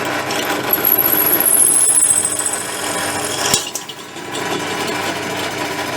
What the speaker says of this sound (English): This is one of the drill bits that I've sharpened. Let's see what it do with stainless steel.